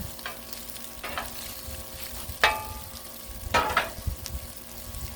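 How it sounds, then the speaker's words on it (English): Chopped cabbage charring in a hot pan outdoors in wind, a steady sizzle with a few louder scraping stirs and clatters of a utensil against the pan, no talking. "Getting a nice char on the cabbage."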